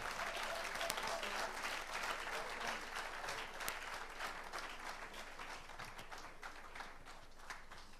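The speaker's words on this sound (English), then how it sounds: "Let's give him a round of applause." A large gathering cheers a keynote speaker at a celebration with a continuous wash of applause, fairly distant and faint, steady throughout with a murmur of crowd voices beneath it.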